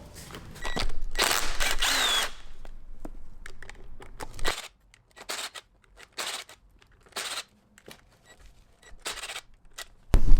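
Power tool whirring in short bursts while T27 bolts come out of a ZF 6HP transmission solenoid plate, a longer run first, then brief intermittent spins and clicks with quiet gaps between.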